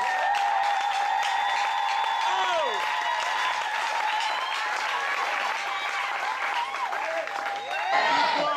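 A church congregation at a New Year service in Libreville, Gabon, applauds loudly and steadily, with many voices and tonal calls mixed into the sustained clapping.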